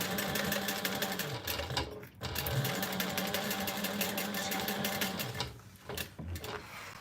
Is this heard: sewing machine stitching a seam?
yes